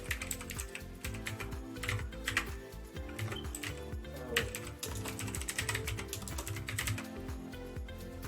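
Fast, continuous typing on a computer keyboard as a password is entered, with dense, irregular clacking of keys close to the listener for the whole stretch and no voices.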